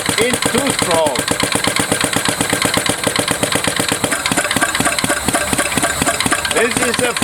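A transparent combustion engine with variable valve actuation runs in two-stroke mode at 500 RPM, producing a rapid, regular chuffing pulse of firing strokes, loud and close, with a brief shift in the pattern partway through.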